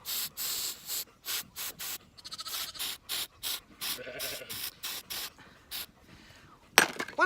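Short bursts of hissing spray onto a sheep's hoof, between the toes and up inside the hoof wall, roughly a dozen quick pumps in an uneven rhythm, fairly close and moderately loud, with a brief clink near the end.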